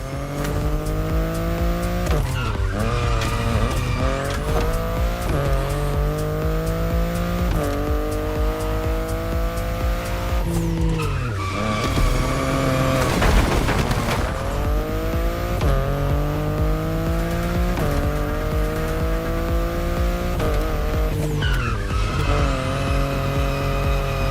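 A BMW i8 sports car in The Crew Motorfest video game revs hard and loud through repeated gear shifts, with tires squealing and skidding again and again, and no talk.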